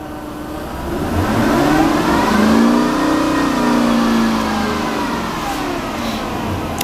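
A Dodge Hellcat Hemi V8 revs up to 3,500 RPM, its loud, close engine note rising smoothly, holding a steady high drone, then easing back down.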